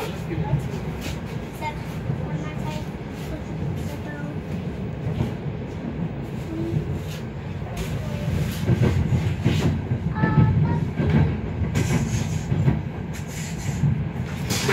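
A passenger train carriage rolling on rails on a trip from Ternopil to Kyiv gives a steady low rumble with rattles and rhythmic clicks, loud and close from inside the wagon, with people talking over it.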